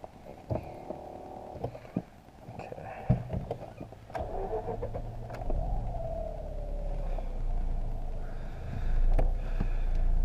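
A first-generation Mazda RX-8 with a short shifter starts off with clicks and knocks from the cabin, then its engine rises into a steady, building drone, with faint voices inside the car.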